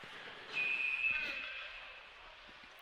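A referee's whistle at an ice hockey game, a single sustained shrill blast lasting about a second, moderately loud in a reverberant rink, followed by quieter arena ambience and a voice in the background.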